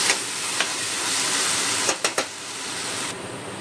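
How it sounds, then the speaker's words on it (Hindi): Masala sizzling hard in a pan on a home stove, a dense continuous frying hiss with a few quick utensil taps and stirring scrapes near the end. "बरो मातशें भाजून घेता"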